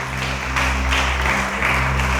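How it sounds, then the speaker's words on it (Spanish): A church congregation claps for the King during a worship service, a steady close wash of applause over a low sustained musical hum throughout. "Dale ese aplauso al Rey."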